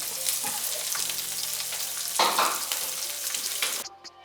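Ginger dropped into deep red chili oil for mapo tofu, a close, bright sizzle with stirring scrapes, flaring louder midway and cutting off abruptly near the end.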